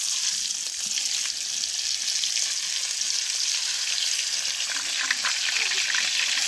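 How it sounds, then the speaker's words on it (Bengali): Fish frying in hot oil hisses in a steady, loud, close sizzle with a few crackles and spits, running continuously throughout. "বেগুনি এখন মাছটা বাইজে নিব আমরা"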